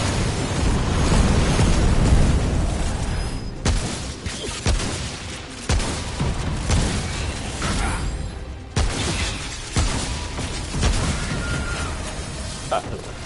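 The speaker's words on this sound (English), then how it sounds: "Barrage incoming." A barrage strikes in the Remnant video game, several heavy booms and blasts landing one after another at irregular intervals, loud and punchy amid other game noise.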